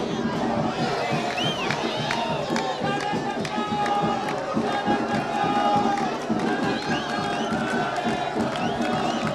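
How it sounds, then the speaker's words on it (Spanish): Carlista fans at an airport cheer, shout and clap to welcome their team in a dense, lively crowd din, with excited voices and children's shouts rising throughout. "Ahí la gente lo abraza y lo aplaude por esta hazaña"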